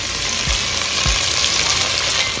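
Food sizzles in a pan of hot oil and butter, a steady frying hiss with a couple of soft knocks from the pan, brief and close.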